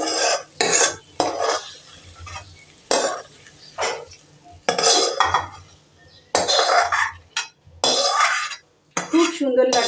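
Spring onion curry is served with utensils clinking and scraping against dishes in short bursts. Someone talks between and over the clatter.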